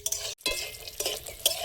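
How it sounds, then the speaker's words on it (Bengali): Sun-dried lentil dumplings (bori) fry in hot oil in a pan, with a close crackle broken by a brief silence and a few sharp metallic clinks as they are stirred. "তেলে বড়িগুলো ভেজে নেব।"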